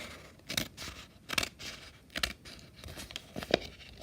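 Scissors snip through paper strips for kid-friendly paper beads, giving several crisp cuts spaced about a second apart, close and fairly quiet, with no talking.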